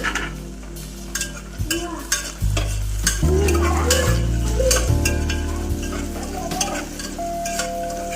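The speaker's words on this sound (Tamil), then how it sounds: "வெங்காயம் நல்லா வதங்கினோட பச்சை மிளகாய், தக்காளியும் போட்டு நல்லா வதக்கணும்." Onion, green chilli and tomato sauté in a pan for goat boti curry, a loud close sizzle broken by repeated spoon scrapes and clinks against the pan at an irregular pace.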